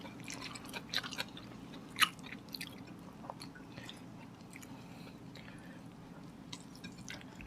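Close, quiet chewing of adobong kangkong and crispy fried pork chop in a mukbang, with soft wet smacks and occasional crunchy bites in an irregular rhythm over faint background noise.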